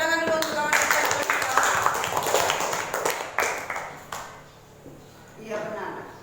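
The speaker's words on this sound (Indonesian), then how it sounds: "Iya, tepuk tangan dulu untuk kawan kita" A sixth-grade class claps for a classmate in a lesson, a burst of uneven hand claps that thins out and stops, with a teacher's voice heard alongside.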